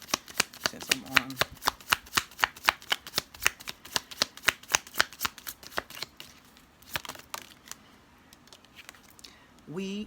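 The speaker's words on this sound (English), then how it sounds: "I was just shuffling through this deck to see what else is here" A deck of tarot cards is shuffled in a steady run of crisp, riffling snaps for several seconds, then slows and trails off, heard close up with faint background sound.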